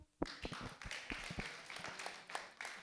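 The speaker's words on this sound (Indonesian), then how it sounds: "Kasih aplaus dong." A small indoor audience claps for a few seconds at a business and empowerment skills training session, with scattered, fairly faint and uneven hand claps.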